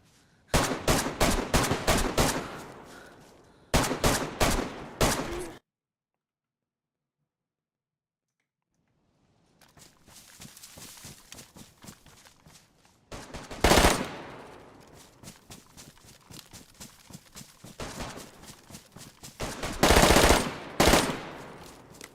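M4 rifle firing in DayZ: loud rapid bursts of close gunshots, a silent pause, then more bursts of fire coming in volleys and single cracks.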